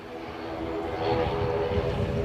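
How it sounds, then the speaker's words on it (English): An EasyJet airliner from Belfast at Edinburgh Airport gives a steady, rising engine roar at a moderate distance, with no talking. "It's an EasyJet from Belfast."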